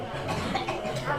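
A man produces a short, close cough during a sermon at a condolence gathering, with a rough, voiced sound that may be a deliberate imitated cough.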